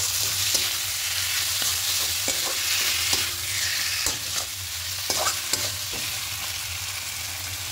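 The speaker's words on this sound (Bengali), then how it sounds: "খুব ভালো করে মশলার সঙ্গে মিশিয়ে নেব।" Chunks of gizzard, liver and stomach meat are stirred and fried with spices in a pan, a steady close sizzle broken by repeated scraping clicks of the spoon.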